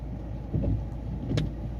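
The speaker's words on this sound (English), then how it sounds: "Okay, vehicle is now idling at" A Ford Transit van with a blocked diesel particulate filter idles steadily, a low, even engine rumble close by with no voices.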